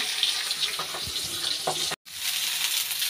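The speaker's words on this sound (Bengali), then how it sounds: "মাছটা ভেজে নিই এখন" Fish frying in oil in a pan gives a loud, continuous close-up sizzle and hiss, broken only by a very brief dropout near the middle.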